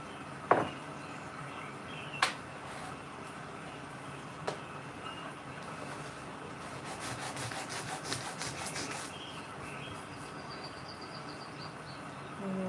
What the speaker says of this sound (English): I keep sanding and adding, and eventually it'll look like something.